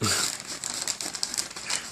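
Dull old scissors snip and crinkle through plastic packaging from a hard drive case, a close, irregular series of crackling cuts and rustles.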